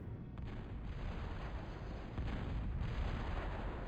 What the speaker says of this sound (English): Tristan's BB is up. Let's see what he's shooting at. Track those shots